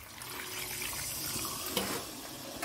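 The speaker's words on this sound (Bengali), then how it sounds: "একটু জল দিয়ে দিচ্ছি।" Water poured into a pot of simmering mutton curry with potatoes, a steady, close splashing pour over a low bubbling background.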